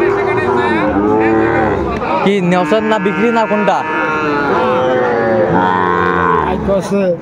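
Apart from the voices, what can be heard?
Sahiwal bull calf mooing at cattle market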